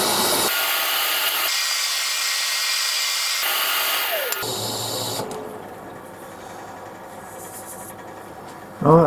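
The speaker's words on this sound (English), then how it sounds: "that's all rubbed down to 400 grit" A rough old piece of wood turned into a long-stemmed goblet is sanded down to 400 grit, giving a steady, close rubbing hiss that shifts in texture partway through and ends with a brief louder knock.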